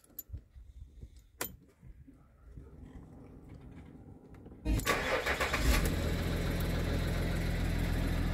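A Jaguar XJ X350 with a 2.7 V6 diesel engine cranks and fires after a few quiet clicks and rustles, then settles into a loud, steady idle close by.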